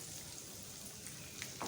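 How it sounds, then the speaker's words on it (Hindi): Semolina roasting in hot ghee in a pan for suji halwa, giving a soft, steady sizzle with faint crackles throughout, fairly quiet and alone. "जो हमने सूजी भुनी थी वो शामिल कर दें घी में"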